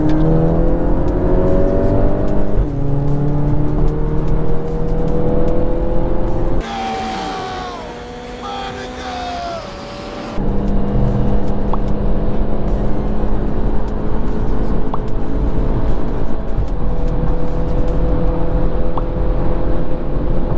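A modified hatchback races a Lexus ISF on the highway, its engine loud and close as it revs up repeatedly through the gears, dropping to a quieter lull midway before climbing again.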